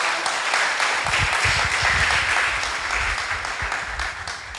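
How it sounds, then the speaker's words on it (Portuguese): A church congregation at a cell-group conference applauds, sustained dense clapping with scattered voices underneath, tapering slightly toward the end. "aplauda o nome do Senhor"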